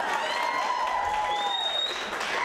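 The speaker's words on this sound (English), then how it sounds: "that deserves an applause" Stand-up comedy club audience applauding in a steady, full wash of clapping with some crowd noise and faint whoops, sustained at even loudness throughout.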